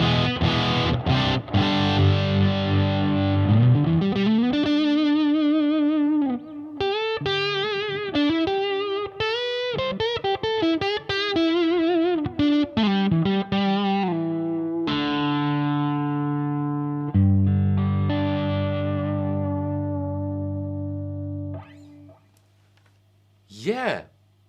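An electric guitar plays through a Marshall DSL 20HR amp set to high gain, with saturated distorted chords and ringing notes up close, ending in a decaying sustain and near silence.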